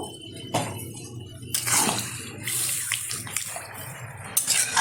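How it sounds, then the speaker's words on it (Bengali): Water poured from a vessel into a pan of country chicken curry, a splashing, gushing pour in several bursts, fairly close and clear with no talking. "দিয়ে দেবো পরিমাণ মতো জল।"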